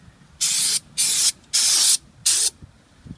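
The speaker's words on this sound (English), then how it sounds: "I did spray the brake pads with some brake quiet stuff." An aerosol can of brake quiet sprays onto brake pads in four loud, even bursts, each about half a second long with short pauses between them.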